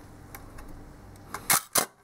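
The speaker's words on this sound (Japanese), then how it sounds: "このシャッターチャージもですね、重くなったりガリガリしないで、スムーズですね" A silver Hasselblad 500C/M medium-format camera body with an A12 magazine and waist-level finder gives a few light mechanical clicks, then two loud, sharp clunks of the shutter and mirror release in quick succession, close up.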